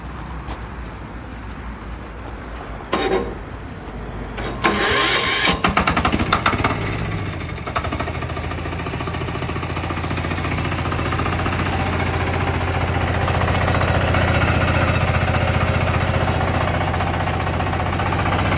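A Kentavr 10 hp diesel walk-behind tractor engine runs with a steady, loud low chugging, and a few sharp knocks and rattles early on before the drone settles and grows slightly.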